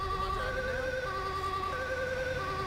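Ambulance siren from a GTA 5 ambulance mod, a loud, continuous wailing two-tone electronic siren in busy city traffic, sounding close and steady throughout.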